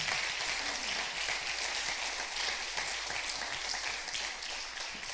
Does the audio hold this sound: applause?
yes